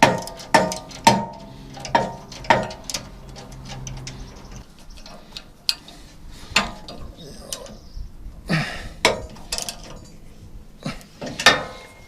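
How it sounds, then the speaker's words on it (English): A nut is tightened by hand onto a bolt on a sawmill log support, giving sharp metallic ratcheting clicks in quick, uneven bursts, close-up, with pauses between turns. "So I've got the nut on the bolt and it's tightening as I'm going along."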